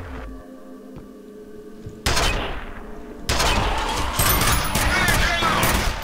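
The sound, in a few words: nail gun firing in video game F.E.A.R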